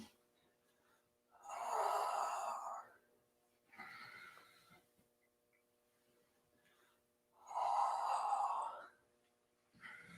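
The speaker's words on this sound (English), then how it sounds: "Exhale through your mouth." A person exhales through the mouth during a morning mobility routine, three long breathy whooshes spaced a few seconds apart with quieter breaths in between, close and clear.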